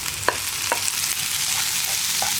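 Onion, green chilies and chopped tomato fry in a pan for an egg curry, a steady sizzle broken by a few sharp spoon scrapes as the mix is stirred, close and without talk.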